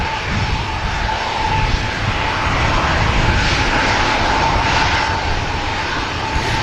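A Tui aircraft at Manchester Airport gives a steady, fairly loud engine roar with a faint tonal whine running through it, holding evenly throughout with no talking.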